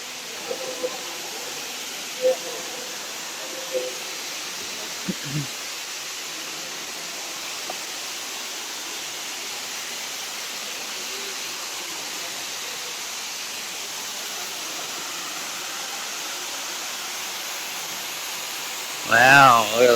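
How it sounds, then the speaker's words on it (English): A waterfall at a cenote near Chichen Itza pours in a steady, even rush of water that fills the whole stretch, with a few faint voices and brief knocks over it and a louder voice near the end. "Look at the waterfall up there."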